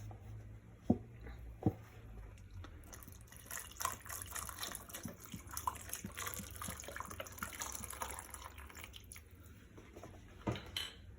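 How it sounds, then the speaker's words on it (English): Vegetable stock poured into a pot of black-eyed peas, a steady liquid pour with splashing and a few clinks of cookware at the start and end, close and moderately loud with no talk. "I have a vegetable stock here, that's what I will add."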